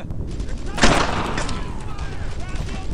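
Gunfire rattles in the video game Brothers In Arms: Earned In Blood, with a loud close blast early on and then continuous rumbling shots, while a voice talks over it.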